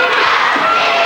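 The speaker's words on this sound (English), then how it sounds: "The student section very loud." A packed high school gym at a girls basketball game between Sac City and IKM roars with loud, sustained crowd cheering and shouting from the student section, dense and close throughout.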